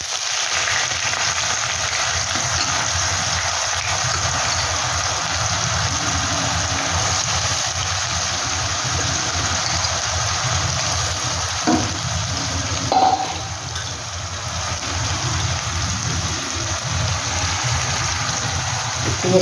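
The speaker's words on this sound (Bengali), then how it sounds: "পেঁয়াজটা বন্ধুরা একটু হালকা করে একটু ভেজে নিই।" Onions fry in hot oil with fennel seeds for a fennel chicken dish, a steady, close, continuous sizzle with a brief stir or clink partway through.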